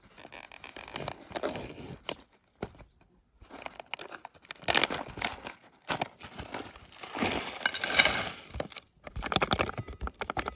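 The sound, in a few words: opening a package of freeze-dried food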